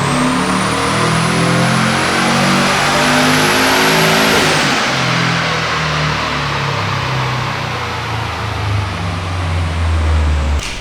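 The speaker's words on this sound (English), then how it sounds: "Sounds silky smooth, no misfires. It's a very happy motor." A tuned car engine revs hard on a dyno, with a loud rising pitch and a fan whirring, then drops off and settles into a rough, throbbing idle. No misfires are heard.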